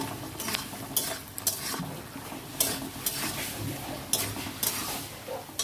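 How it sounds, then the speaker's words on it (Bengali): Soybean chunks, egg and potato with turmeric are sautéed in a pan: a steady sizzle runs under regular scraping stir strokes and light utensil clinks against the metal, close up, with no voices. "একটু হলুদ দিয়ে দিলাম, দিয়ে এটাকে একটু কষে নেব।"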